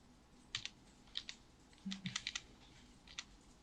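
Computer keyboard keys pressed during Photoshop work, a few sharp separate clicks and short bursts of taps, close and fairly quiet, with no talking.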